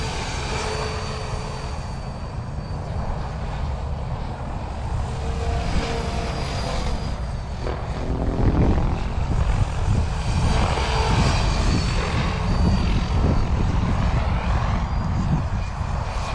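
A paramotor engine drives steady flight on a Freedom Piuma wing with low head speed and 15 degrees of pitch, a loud continuous propeller drone with wind rush that swells slightly partway through, with no talk.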